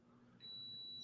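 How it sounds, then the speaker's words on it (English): A dishwasher's electronic beeper sounds a steady, high-pitched tone that starts partway through and holds to the end, fairly faint over a low background hum. "Sorry for the beeping, my dishwasher."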